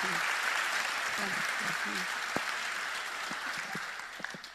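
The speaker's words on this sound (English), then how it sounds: "So maybe a big round of applause to make her feel very welcome." An audience at a literary conversation event gives a round of applause welcoming an author, a steady wash of clapping that slowly thins and fades, with a few faint voices underneath.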